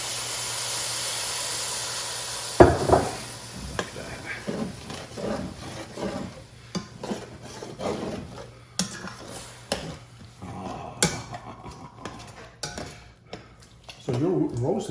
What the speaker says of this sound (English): Before the bottom burns all the way through, I have to add the bouillon and deglaze the pan.